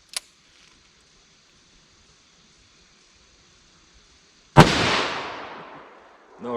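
A single .44 Magnum round rated at 1350 feet per second is fired through a chronograph: a sharp, loud report after near silence, followed by a long, slowly fading echo tail.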